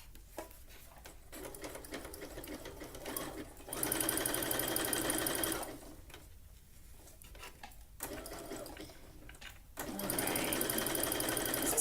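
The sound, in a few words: sewing machine zigzag stitching elastic on tankini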